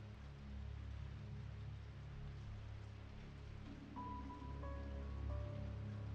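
Steady rain falls throughout a school scene in the horror game Corpse Party, a continuous hiss with low rumble, joined late by soft sustained tonal notes from the game's music.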